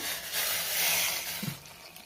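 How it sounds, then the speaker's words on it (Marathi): Hot water is poured into a pan of sautéed tomato and roasted gram dal for amti, a brief rushing splash lasting about a second that then fades. "आता आपल्याला ह्यामध्ये पाणी घालायचे, पाणी गरम करूनच घ्यायचे"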